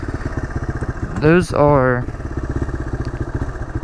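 A dirt bike engine idles unevenly with a steady low pulsing putter, close by; it is briefly overtaken by a loud burst of harmonic talk in the middle, with someone speaking before and after.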